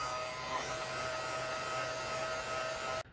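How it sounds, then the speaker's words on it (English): A small heat gun blows with a steady whirring, buzzing drone while it warms the decal on a Tamiya 1/10 RC Ford Escort Mk.II Rally lexan body, then cuts off abruptly near the end. "Alright, so I got a little heat gun."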